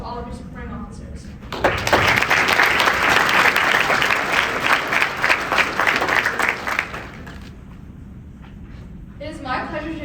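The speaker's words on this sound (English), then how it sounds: "Please give a round of applause to all of your supporting officers" A school-government conference audience bursts into loud, sustained applause for supporting officers, with a dense patter of clapping that swells for several seconds and then fades back toward a speaking voice at a podium.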